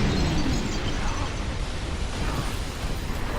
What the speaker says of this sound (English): Oh, that's an explosion.